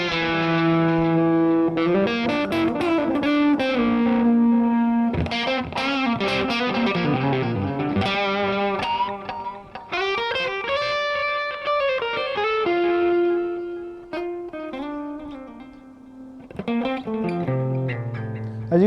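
Fender Player Stratocaster HSS electric guitar played through the middle plus bridge pickups with both tones full, running through a steady stream of chords and melodic runs, bright and effected with mild drive, continuous and fairly loud without any talking.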